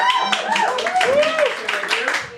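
An audience claps on stage to welcome a volunteer at a magic show, short bursts of hand claps mixed under someone talking throughout.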